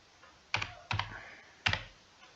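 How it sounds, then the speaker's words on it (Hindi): A captcha code typed on a computer keyboard during an online application form, three quick bursts of close, crisp key clacks separated by short pauses, with no speech. "कैप्चा कोड यहाँ पे आपको फिलअप करना है, तो मैं जल्दी से कैप्चा कोड फिलअप कर देता हूँ।"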